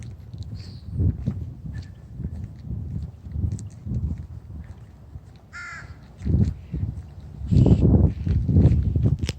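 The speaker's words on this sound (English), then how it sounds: "I got a crow." A crow caws outdoors in two short bursts a second apart, fairly near, over soft shuffling footsteps and low rustling background noise.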